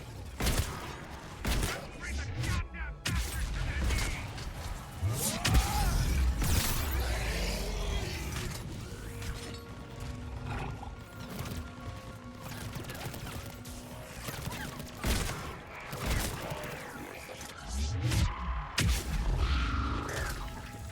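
Sustained gunfire and explosive bursts in a Mass Effect 3 battle, with rapid shots and crashing impacts continuing throughout at steady loudness, broken by louder bursts near the start and end and mixed with voices.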